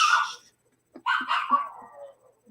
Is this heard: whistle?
no